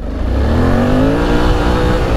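With traction control off, a Suzuki V-Strom 800 motorcycle revs hard and slides off-road. The loud engine drone climbs steadily in pitch close by, with no talking.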